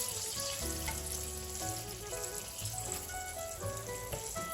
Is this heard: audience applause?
no